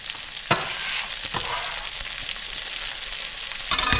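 Onions frying in a pan give a continuous loud, close sizzle with occasional stirring scrapes, steady throughout with no voices.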